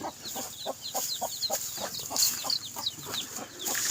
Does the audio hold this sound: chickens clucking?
yes